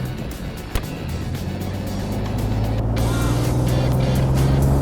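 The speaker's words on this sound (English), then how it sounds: "Let's bring the engine in a 3rd gear up to 3000 RPM to calibrate." A remapped Alfa Romeo Giulia Quadrifoglio on a dyno run, its engine held in third gear near 3000 RPM, a loud steady close drone that builds slightly in intensity throughout.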